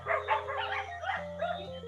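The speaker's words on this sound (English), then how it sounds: "There's some dogs barking." Several dogs barking somewhere off-mic during an online math class, a string of moderately loud, overlapping yaps and barks repeating through the whole stretch over a steady low hum.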